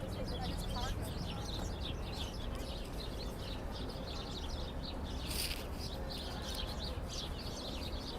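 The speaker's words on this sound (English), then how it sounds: "You hear the birds chirping in those bushes." Birds chirp and twitter continuously in bushes near the Brooklyn Bridge over a dense, steady outdoor background, with a brief louder burst about midway.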